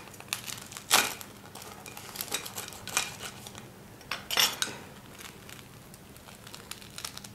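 Crispy fried bread balls are cut with a knife, giving several faint, sharp crunching cracks separated by quieter scraping, with no speech.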